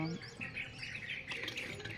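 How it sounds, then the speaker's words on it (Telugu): Birds chirping and tweeting outdoors, several high calls overlapping continuously over a soft background hum, moderately near. "బయట అంతా బ్యాక్గ్రౌండ్ వాయిస్ అన్ని పక్షులు"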